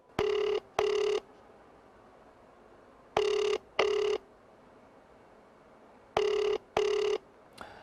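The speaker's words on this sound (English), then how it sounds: "Doesn't want to answer the phone." A telephone rings unanswered in three pairs of short, bright double rings separated by silent gaps, loud and close with no voices.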